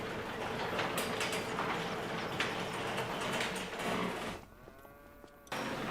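Cattle in a Farming Simulator 25 game low and moo over a dense, steady mechanical rumble, with the noise briefly dropping away near the end as a clearer moo comes through.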